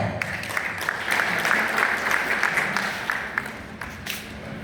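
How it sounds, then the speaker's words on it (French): Sustained, dense applause from a formal assembly of senators and deputies, a broad even roar of many hands with no talking over it, fading slightly toward the end. "On applaudit très très fort."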